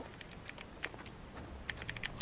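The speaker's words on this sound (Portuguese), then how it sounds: "Eu tô ouvindo um tecladinho seu, Cap." Quick, faint clicks of a computer keyboard tapping in irregular bursts, close but quiet, with no voices.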